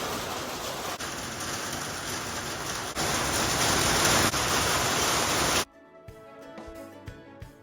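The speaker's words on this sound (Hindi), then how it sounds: "बारिश शुरू हो गई बहुत ज़ोरों से" Heavy rain pouring down hard in India after a hot afternoon, a dense steady roar throughout that swells louder partway, then cuts off abruptly to quiet near the end.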